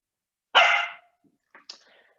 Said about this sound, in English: I apologize for the dog.